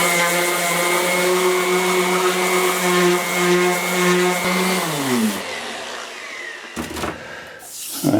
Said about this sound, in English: I'm going to take a 120 on the sander and go over everything with this.